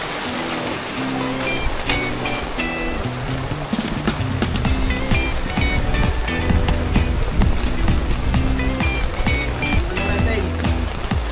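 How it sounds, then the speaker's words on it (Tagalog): Strong river current and waves rush loudly and continuously at Daraga, Albay, a broad churning water roar with crashing surges, while people talk over it intermittently. "Lakas ng alon, oh. Lakas ng agos pala."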